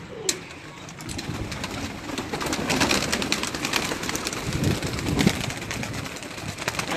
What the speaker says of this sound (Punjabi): ਸਾਰੇ ਹੀ ਉੜਨ ਵਾਲੇ ਕਬੂਤਰ ਨੇ